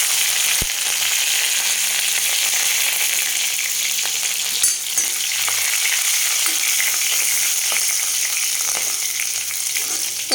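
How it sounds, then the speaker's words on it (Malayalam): Ginger, garlic, green chilli and curry leaves hiss loudly with popped mustard seeds in a hot pan, a steady close sizzle with faint crackles and occasional stirring clinks. "ഇഞ്ചി, വെളുത്തുള്ളി, പച്ചമുളക്, കരിവേപ്പില എല്ലാം ചേർത്ത് കൊടുക്കാം"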